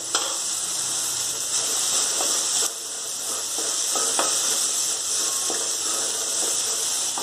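Chopped tomatoes sizzle and fry in a pan for jowar upma, a steady loud hiss with faint crackles and occasional stirring scrapes, with no talking.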